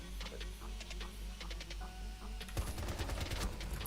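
Rapid bursts of gunfire in a first-person shooter game crackle over a steady low rumble, growing denser and louder in the second half.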